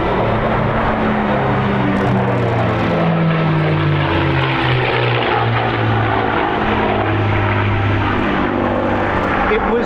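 A P-51D Mustang with a Merlin engine flies formation aerobatics at the MCAS Cherry Point airshow. Its propeller drone is loud and steady, with slowly shifting pitch throughout and no talk.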